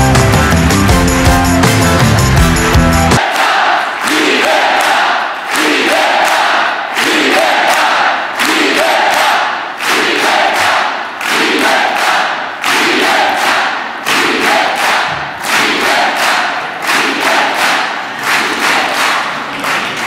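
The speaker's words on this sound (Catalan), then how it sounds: "Així que vos demano un fort aplaudiment per a la companya de Tortosa, Irene Fornós, la nostra candidata ebrenca." After a brief burst of music, a crowd at a political election rally breaks into loud rhythmic applause, clapping in unison with steady pulses for a long stretch.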